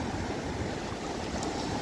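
Sea waves breaking on the beach at Prymorsk in the Odesa region on a cold, overcast day, a continuous close wash of surf with wind noise and no voices.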